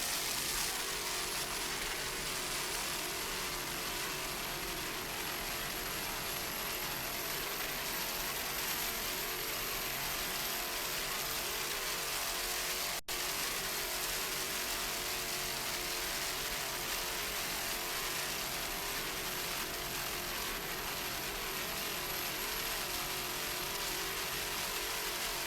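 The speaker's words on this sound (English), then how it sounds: "Those Blue Thunder engines doing their job." A 30-foot Formula offshore racing powerboat with Blue Thunder engines at the 1996 Miami Grand Prix gives a steady, sustained engine roar that holds evenly throughout, with no voices.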